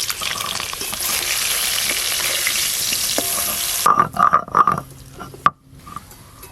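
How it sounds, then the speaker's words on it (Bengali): Potatoes fry loudly in hot oil with a dense, even sizzle, then the sound cuts off and a few sharp clinks and knocks follow in near quiet. "আলুগুলো কিন্তু বেশ লাল লাল করে ভাজা হয়ে গেছে"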